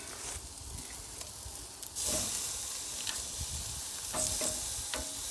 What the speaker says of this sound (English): it's time to turn these steaks over on this Jealous Devil charcoal